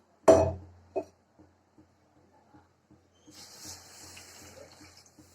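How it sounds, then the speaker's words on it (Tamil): A couple of sharp clanks, then a soft, steady hiss of a cup of water being poured into a pan of jaggery, quiet and close. "அதே அளவுக்கு ஒரு கப் தண்ணி சேர்த்துக்கலாம்."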